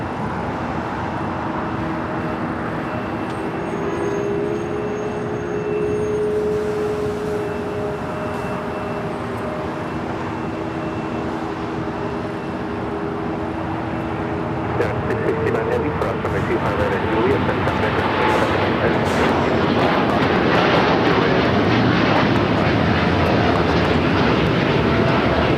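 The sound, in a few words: United Airlines Boeing 787-10 Dreamliner taking off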